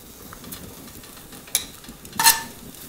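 Beef crowns frying in oil in a pan, a low steady sizzle with two brief sharper crackling bursts as pieces are laid down, fairly quiet and close.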